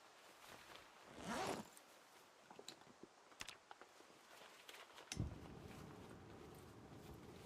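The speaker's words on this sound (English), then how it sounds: "Love that bugged, weird rustling sound." A glitchy rustling in a zombie survival video game comes as crisp, zipper-like scrapes and soft patter, with one louder rasping burst early on and scattered short rustles after it, fairly quiet and with no voices.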